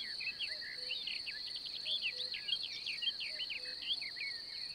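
Mole cricket gives a faint, steady, continuous high trill in the countryside, with scattered short chirps on top.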